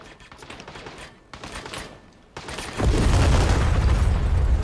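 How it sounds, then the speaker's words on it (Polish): Cars blowing up in the Call to Arms war strategy game: a sudden heavy blast near 2.8 seconds rolls into a sustained loud, low rumble, preceded by scattered distant pops and bursts of battle noise. "No mówiłem coś o wybuchających samochodach, nie?"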